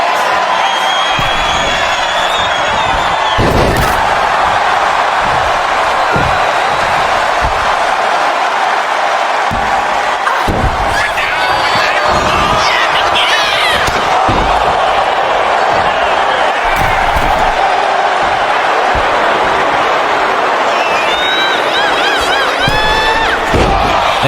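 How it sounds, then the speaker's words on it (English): Virtual arena crowd in the WWE 2K25 wrestling video game chanting and cheering steadily throughout, a dense roar with rising swells and occasional slams, with no clear talk over it. "The crowd chanting this is awesome because they love what they are seeing."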